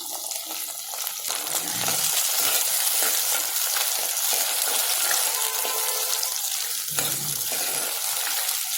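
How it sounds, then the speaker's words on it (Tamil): Onion and tomato sauté in hot oil for a karunai kilangu (elephant yam) kulambu, giving a loud, bright, continuous sizzle, close up, with brief stirring dips near the start and toward the end and no voices. "வெங்காயம் நல்லா பொன்னிறமாக வர வரைக்கும் எண்ணெயிலே நல்லா வதங்கட்டும்"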